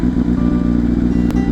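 A Kawasaki Vulcan S motorcycle idles steadily nearby, a continuous low engine rumble with one brief sharp click near the end.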